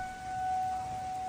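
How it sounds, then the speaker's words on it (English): A steady, high wailing tornado warning siren drones from a distance in Ohio during severe weather, holding one pitch over a quiet background. "You can hear the sirens going off in the background there."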